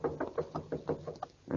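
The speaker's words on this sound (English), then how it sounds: "Knocking. Oh, the door over there." A series of about eight evenly spaced knocks on a wooden door in an old-time radio mystery drama, close and fairly loud, with a short pause near the end.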